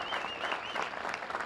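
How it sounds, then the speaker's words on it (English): Steady clapping from a crowd at an outdoor bandstand dedication fills the whole stretch, dense and continuous at an even level with no voices standing out. "Let's give them a round of applause for the extraordinary work"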